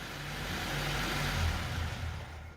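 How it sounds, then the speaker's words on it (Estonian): A car engine, running on four cylinders, revs steadily up and back down, a continuous close mechanical roar with no voices. "teeb täitsa auto häält ja läheb päris kenasti pöördesse"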